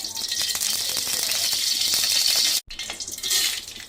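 Urad dal poured into a hot kadai with a spoon of oil for dry roasting, in Andhra-style prawn shell chutney prep: a loud, dense, steady rattling of grains that briefly cuts out near the end, then resumes.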